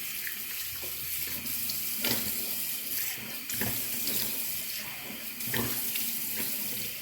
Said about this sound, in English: I just got to rinse my face.